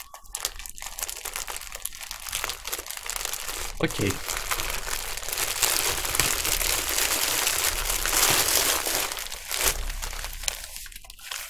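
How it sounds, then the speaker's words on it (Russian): Plastic packaging bag around a custom hoodie being cut open and crinkled, with continuous close, loud rustling and crackling that swells in the middle, and a person speaking briefly. "И с этой стороны тоже надрезаем пакет."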